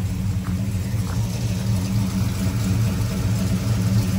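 A car engine idles during a radiator and engine flush, holding a steady, loud low rumble and hum with no revving across the whole stretch, without speech.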